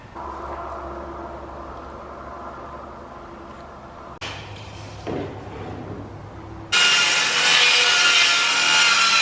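Wood is sawn by hand to trim around rafters while enclosing a dairy barn, a close, steady rasping stroke that pauses twice and returns louder and brighter toward the end.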